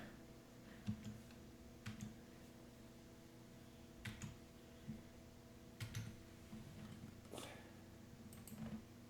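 Soft, scattered keystrokes on a computer keyboard come as faint, irregular clicks over a steady low hum, heard close and quiet with no talking.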